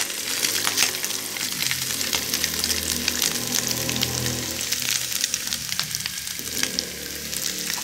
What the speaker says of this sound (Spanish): Para que empiece a sofreír